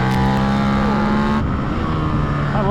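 Engine of a 2024 KTM RC8c motorcycle screams at high revs, loud and close, with the pitch shifting as it overrevs and changes gear.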